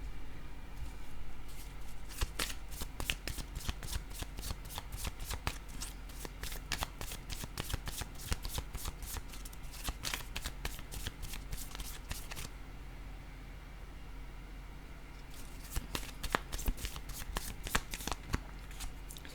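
Riffle shuffles of a deck of tarot cards, rapid crisp fluttering bursts repeated several times with a short pause partway, close and fairly quiet with little talk.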